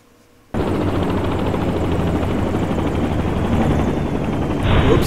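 Helicopter rotor and engine drone from the X-Plane 10 flight simulator, starting abruptly after a moment of silence and holding loud and steady, swelling slightly near the end.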